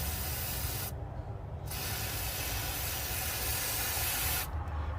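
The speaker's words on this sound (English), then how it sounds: "Go under here, we'll get a bunch of silicone on this side." Silicone lubricant sprayed from an aerosol can on a Pursuit 326 DC boat, a long loud hissing burst with two brief pauses, close to the listener.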